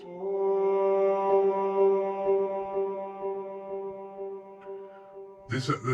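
A purchased sample routed through delay, an EQ filter and a Big Sky reverb pedal rings as a sustained harmonic drone with steady layered tones and a soft pulsing texture, ending in a brief bright burst.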